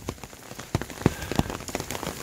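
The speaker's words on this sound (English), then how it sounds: "I think we got a little hail here." Hail falling on a hiking trail on the Pacific Crest Trail, a steady patter of scattered icy taps and a few louder close strikes against a dense rain-like hiss, with no talking.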